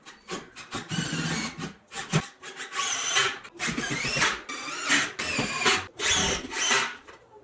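A power driver sinks screws into a wooden cable railing up close, with loud whirring bursts that rise and stop several times in quick succession.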